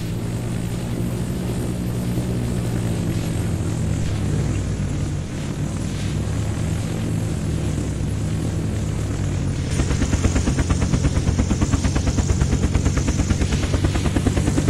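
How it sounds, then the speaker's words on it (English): Helicopter engine and rotor in the Unturned video game give a steady, loud drone that switches to a rapid, even chopping pulse for the final seconds as the craft comes in to land. "we're gonna take this heli and land it inside the base"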